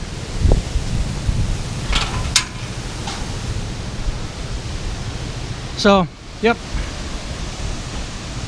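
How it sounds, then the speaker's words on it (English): Broad, steady tropical-storm wind roars in a constant rushing wash, with a few brief gusty peaks and a short spoken remark partway through. "It's picking up, it's getting windy."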